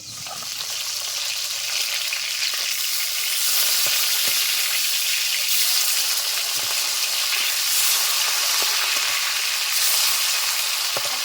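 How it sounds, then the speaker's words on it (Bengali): Pieces of rita fish fry in a pan with a steady, loud sizzle that holds evenly throughout, with a few faint crackles and no talking. "মাছগুলোর একটা সাইড হয়তো ভাজা হয়ে গেছে উল্টে নিয়ে আবার বেটে নেব"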